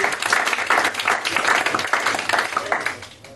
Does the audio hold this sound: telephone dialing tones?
no